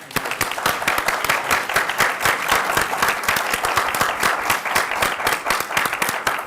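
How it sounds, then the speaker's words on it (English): An audience at an Oak Park city council meeting gives a round of applause, a lively burst of many overlapping claps, close and fairly loud, with sharp individual hand slaps standing out throughout. "If we can give him a round of applause."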